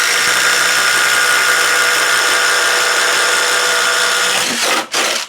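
A Ridgid impact driver sinks a 1-inch fastener in one loud, continuous buzzing whir lasting about four and a half seconds. It then stops abruptly with a short stutter.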